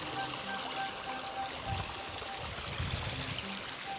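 River water flows steadily while someone crosses a river at dusk in a jungle setting, a continuous near rushing and trickling wash with a few lower gurgling swells, heard alone.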